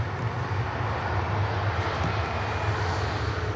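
A KLM airliner taxiing past at Manchester Airport, a steady low jet engine rumble and whine at moderate distance, continuous and unbroken with no talk.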